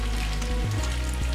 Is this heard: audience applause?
no